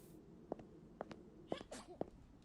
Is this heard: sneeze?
yes